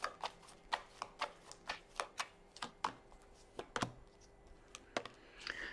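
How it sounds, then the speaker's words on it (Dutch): Tarot cards are shuffled close up in quick, irregular riffling taps and snaps, repeated steadily for several seconds with no voice. "Ik zal de kaarten schudden om te kijken wat deze week voor de kreeft gaat brengen."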